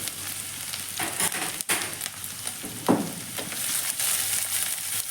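A tablespoon each of chopped garlic and ginger sautés in hot oil for chilli chicken, making a close, lively sizzle broken by a sharp scrape of the spoon and a burst of spitting.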